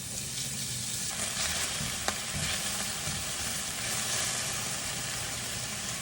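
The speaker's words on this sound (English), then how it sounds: "Just have some really thin cut steak, just salt and peppered. This is going into the oil and just give it a quick fry." Thin-cut steak seasoned with salt and pepper frying in olive oil, a steady loud sizzle and crackle close by, with a brief sharp tap partway through and no talking.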